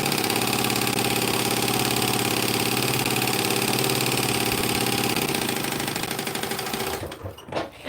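A sewing machine runs fast and steady for about six seconds, stitching two fabric layers together, then slows and stops with a few soft mechanical clicks.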